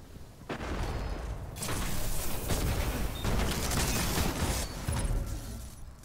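Sustained, loud gunfire from the video game Destiny: The Taken King, played in Crucible player-versus-player matches, with dense overlapping shots and bursts filling the whole stretch.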